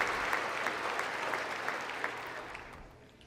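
Crowd applause for Donald Trump at a rally, a sustained wash of clapping that gradually fades toward the end, moderately distant.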